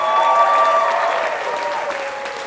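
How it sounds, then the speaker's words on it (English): Audience applause at the Rootabaga 2025 show with DC & the Love, clapping for Andy Crawford; steady, dense, sustained clapping from a crowd that holds at an even level throughout, with faint tonal ringing underneath. "How about a hand for Andy?"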